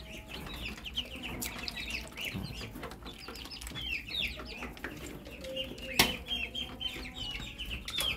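Muscovy ducklings at a rearing pen keep up a busy, high chorus of cheeps and peeps, close and continuous, with a faint low hum underneath.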